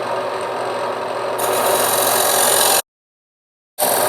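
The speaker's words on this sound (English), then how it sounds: "I'm going to use my skew chisel, create a slight dovetail tenon in here" Skew chisel cutting a dovetail tenon on a wood vessel spinning on a lathe, a steady, close scraping hiss that gets louder partway through, stops abruptly for about a second, then starts again.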